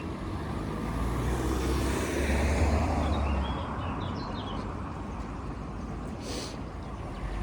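A car drives past on a road in Toledo, Spain, near a road junction, its rumble swelling to a peak and then easing off, with faint birds chirping behind the traffic noise.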